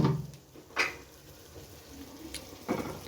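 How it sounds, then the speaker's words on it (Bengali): Water is poured into a hot pan of egg curry with tomatoes, giving brief splashing sizzles and clinks that rise and fall several times over a quiet kitchen background. "জল দিয়ে দিলাম।"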